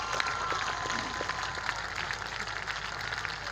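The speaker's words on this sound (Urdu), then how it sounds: "ایک تالی سب تو لمبی تالی سمجھی گئی ہے." Long, sustained applause from an audience at a girls' school and college event, a steady crowd of clapping hands at moderate level with no pauses.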